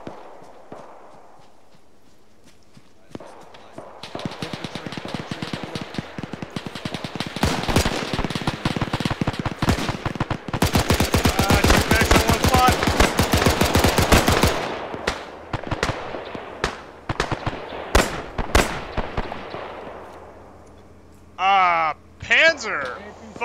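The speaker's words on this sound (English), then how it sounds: "Machine gun." Machine gun fire in a WW2 video game: long, dense bursts of rapid shots interspersed with single cracks, loud and close, while players talk over the radio.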